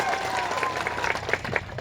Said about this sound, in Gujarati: ત્યારે સૌ માટે એકવાર જોરદાર તાળીઓ પાડી લે